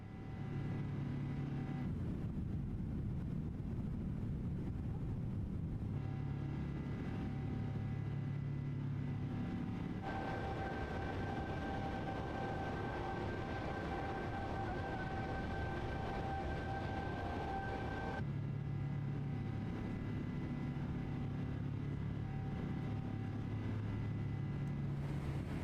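Jet engines of a Boeing 777-300ER drone steadily through a climb after takeoff in a flight simulator game, with a constant roar and a higher whine that grows for a stretch mid-way.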